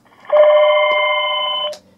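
A Cisco IP desk phone in a kitchen rings once with a single steady electronic trill lasting about a second and a half, loud and close, ending sharply.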